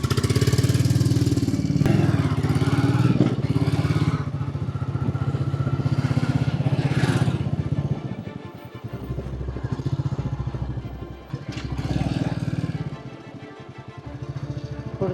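A tempo auto-rickshaw engine chugs along in a rapid, throbbing pulse, loud and close at first, then dropping and wavering in intensity as the vehicle moves on, with no clear talk.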